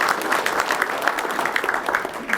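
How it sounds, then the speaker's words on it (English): An audience at an agricultural biomanufacturing forum gives a short round of clapping for two presenters, steady moderate applause without a clear start or finish. "Give these two a nice round of applause"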